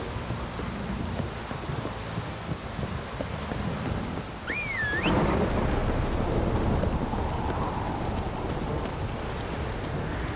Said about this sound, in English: It's blowing, pouring again. This downpour's a bastard,